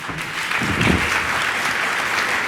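Conference attendees at PyCon UK 2019 lightning talks clap for a speaker named Dominic, a steady wash of applause from a room full of people.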